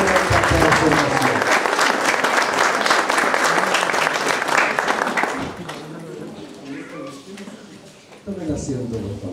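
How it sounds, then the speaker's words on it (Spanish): Graduation ceremony audience applauds for kindergarten children at a rural school, a loud sustained burst of many hands clapping for about five seconds before it thins out and voices start talking. "Un gran aplauso a estos encantadores niños que han cumplido su primera etapa de formación."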